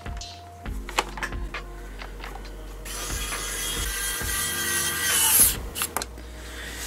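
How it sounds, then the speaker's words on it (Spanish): Plastic cover pressed and snapped back onto an Acer Aspire E15 laptop, a run of close clicks, taps and scraping rubs with a brief rustling stretch midway, no speech. "Vamos a poner la tapera, que tapa todo."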